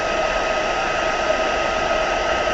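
A hair dryer blows steadily and loudly at close range, drying a craft project with a continuous even whoosh and no talking.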